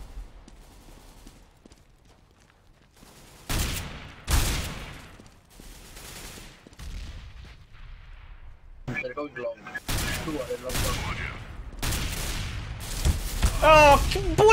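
Sharp gunshots burst out in CSGO competitive play, several loud separate shots and short clusters spread across quieter stretches, with a voice speaking over parts of it.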